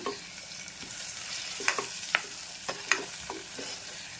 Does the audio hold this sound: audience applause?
no